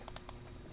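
Quick keystrokes on a computer keyboard, three light taps in a short burst followed by quiet, close and fairly soft.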